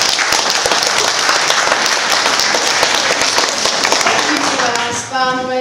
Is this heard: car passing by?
no